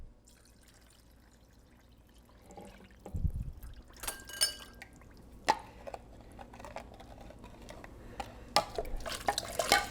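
Water mixed with bouillon poured into a pot of stuffed pepper soup, giving a low splash followed by irregular clinks, stirring and dripping sounds at close range.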